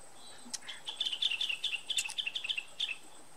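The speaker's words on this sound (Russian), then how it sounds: "Попугай." A parrot calling in an Indian jungle: a quick series of high, thin chirps and tweets, repeated in short clusters, fairly faint and at some distance, with no voices over it.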